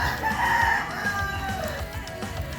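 A native Bisaya rooster crows loudly and close, a drawn-out call over a busy background of other fowl.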